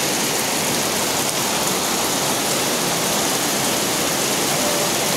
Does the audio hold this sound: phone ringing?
no